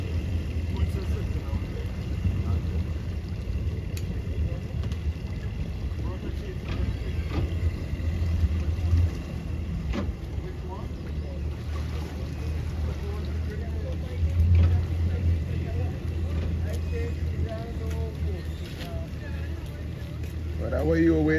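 A four-engine powerboat in a Trinidad and Tobago race gives a continuous low engine drone with wind noise, steady and fairly close, while people talk over it.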